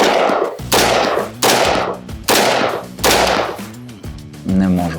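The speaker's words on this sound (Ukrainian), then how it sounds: "Давайте зробимо ще 5 пострілів." Five loud gunshots strike a Ukrarmor steel armor plate in an even rhythm, each sharp crack ringing briefly, followed by a short voice at the end.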